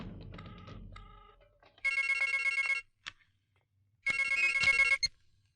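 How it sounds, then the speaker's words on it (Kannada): A telephone rings in a film scene, two loud electronic ring bursts about a second each separated by a pause, preceded by a faint rustle and a short click, with no talk. "ರಿಂಗ್ ಆಗ್ತದೆ, ತಗೊಳ್ಳಿ."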